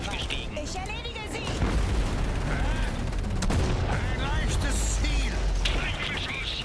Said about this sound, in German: Ja, die Anti-Mech-Kanonen da vorne.